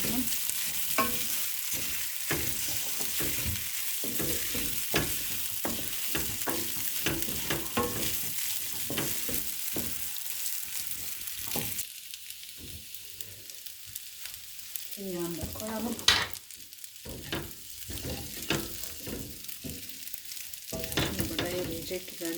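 Steady sizzling of butter frying bulgur in a pan, with repeated scraping stirs and a few louder clatters, no talking.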